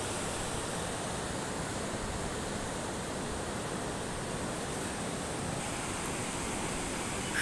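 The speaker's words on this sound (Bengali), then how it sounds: "এই যে গেটের নিচ দিয়ে দেখুন কিভাবে পানি নামে।" Water rushing under the open regulator gates of the Muhuri project at Sonagazi, a loud, unbroken roaring wash that holds steady throughout.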